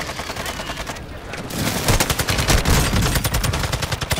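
Rapid, loud semi-automatic gunfire in a shooter video game, rattling in quick repeated bursts, briefly dipping before growing denser and louder toward the end.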